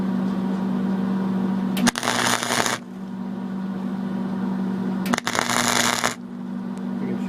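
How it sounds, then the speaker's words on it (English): Welding on snow tire chain links, two bursts of crackling buzz about a second each, separated by a steady electrical hum that runs throughout. "See, you get a nice smooth weld there"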